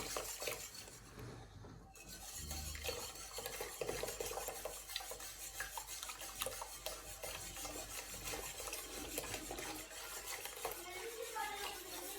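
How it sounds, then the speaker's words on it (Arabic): Boiled milk being poured slowly and stirred in a home kitchen while making Moroccan raib yogurt, a continuous close scraping and swirling with faint clinks of utensil against the pot throughout. "من بعد ما فاض ليا الحليب غادي نبدا نخوي هذا شويه بشويه نحرك"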